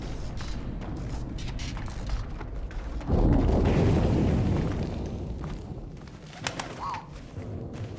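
A pigeon-like bird coos and flutters in the video game 11-11 Memories Retold, faint calls over soft ambience with a brief louder burst of noise midway.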